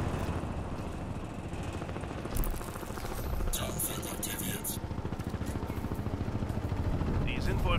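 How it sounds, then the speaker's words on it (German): A helicopter in the video game Crysis 2 drones with steady rotor chop that builds gradually louder, while someone talks over it and faint game effects flicker in the background. "Oder jetzt hier der Helikopter, wird jetzt hier lauter."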